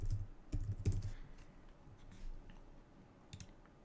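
Keys clatter on a computer keyboard in quick bursts of typing, close and fairly quiet, with short pauses between clusters of strokes.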